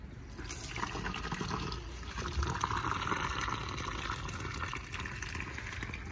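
Water pours steadily from a pipe into a clay flower pot holding a newly planted jasmine (motia) shrub in a village home, a continuous close splashing and gurgling fill lasting several seconds without pause.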